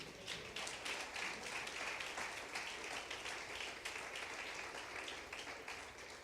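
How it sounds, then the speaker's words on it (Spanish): A church congregation claps during a sermon, giving a steady wash of many hands, quiet and somewhat distant, holding evenly for several seconds. "Denle un aplauso al rey"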